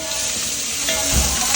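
Garlic and onions sizzle in a Saladmaster pan with a steady, close hiss, and a brief stir near the end adds a soft scraping swell.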